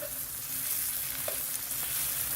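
Bacon frying well done in a pan, a steady close sizzle and crackle running without a break, with a few faint pops over the hiss.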